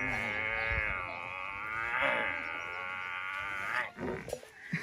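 A man vocally imitates a buffalo's call, a long, loud, droning moo-like bellow sustained for several seconds before breaking off into short rough bursts.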